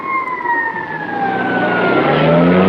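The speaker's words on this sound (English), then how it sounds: "a patrol car just pulled up" A police patrol car siren wails loud and near, its tone sliding downward as it winds down, with a rising engine rumble beneath, from an old TV episode.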